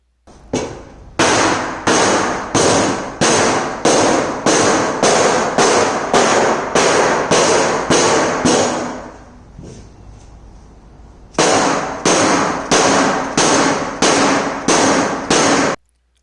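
Sharp metallic hammer blows on a dented CMC Mustang body panel ring out in a fast, steady rhythm, pause for a couple of seconds, then resume at the same loud, even pace.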